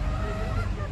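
A small pet hen kept on a rooftop coop in São Paulo sings her drawn-out laying song, a steady nasal honking call that fills the short moment, close and fairly loud with no talk.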